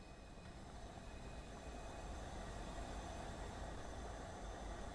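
A steam-era freight train in Train Sim World 2 rolls steadily into a station platform with an LMS Stanier 8F locomotive, a continuous broadband rumble and rail roar holding at constant loudness throughout, with no voices.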